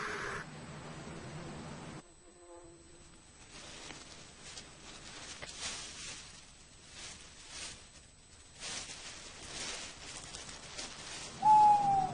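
Hooting calls of a barn owl, the bird of prey that hunts low over grass at night, heard as repeated calls against a dark, quiet background with a soft musical bed.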